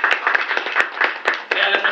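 Audience at a product presentation clapping in a dense, continuous patter of many hands, loud and close, with a few sharper individual claps standing out.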